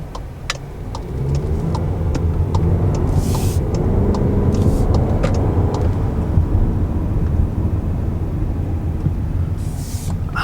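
A 2019 Volkswagen Jetta SEL Premium turbo sedan drives around a corner with a little throttle, its engine and road noise forming a loud, steady rumble heard from inside the cabin, with occasional faint ticks.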